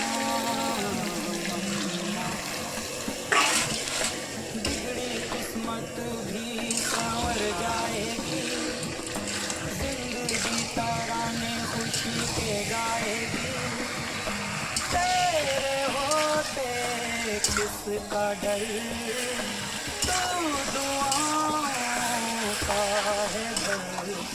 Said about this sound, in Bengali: তারপরে আবার কিছুক্ষণ নাড়াচাড়া করে দেবে নুন দেওয়ার পর।